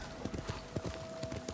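Horse hooves clip-clop in a steady walking rhythm in the video game Ghost of Tsushima, fairly soft and close, with a faint tonal hum in the background.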